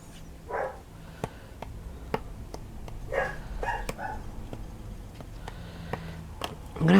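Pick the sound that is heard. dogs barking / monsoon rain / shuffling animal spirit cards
dogs barking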